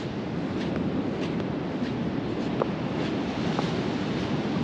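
Surf rolling onto a deserted white sand beach, a steady broadband wash of waves with some wind noise over the microphone, continuous and fairly even throughout, with no voices.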